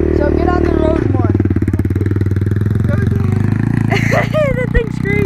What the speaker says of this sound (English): Because with the choke on, it idles high.